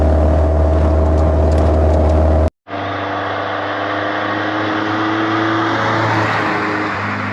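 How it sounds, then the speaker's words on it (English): A Westfield SEiW sports car is driven hard on the road, its engine roaring loudly and continuously with a brief cut in sound, then resuming as a strained, rising drone under rushing wind. "to get to see and drive it a little bit harder, Baz is going to jump in the driver's seat"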